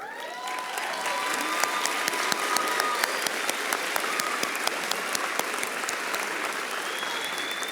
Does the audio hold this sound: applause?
yes